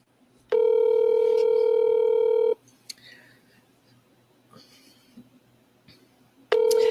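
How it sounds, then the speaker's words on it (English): Two long, loud telephone tones from a phone handset, one lasting about two seconds and another starting near the end, with faint clicks and quiet room sound between them. "Let me call him from a different number."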